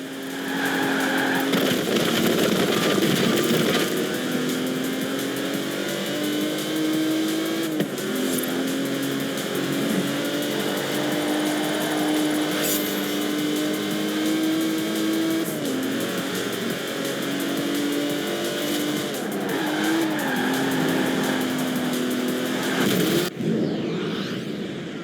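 A fast classic British sports car with a luxurious body drives past, its engine note steady and loud with small rises and dips in pitch as it revs, continuous throughout before cutting off near the end.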